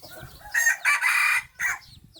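Roosters crow in loud, close, drawn-out calls, two or three bursts in succession, with softer clucking from young and old chickens in the quiet gaps.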